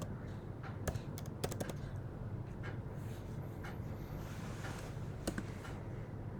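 Keys typed on a computer keyboard as terminal commands are entered on a Mac running macOS Ventura: sparse, quiet clicks in short irregular bursts over a low steady background hum.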